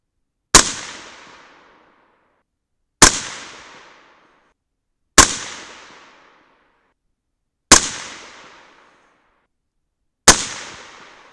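Five sharp, evenly spaced rifle shots from 300 Blackout handloads firing light 110 and 125 grain bullets at a 100-yard range, each a loud crack with a short decaying echo and silence between.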